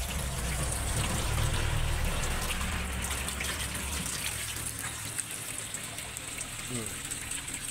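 Mountain watershed water flowing steadily under a bridge at a picnic spot in San Luis, Aurora Province, a continuous nearby gushing rush with people talking faintly over it.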